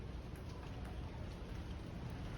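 Steady rain falls in a constant, even hiss of drops with no voices, close and moderately loud throughout.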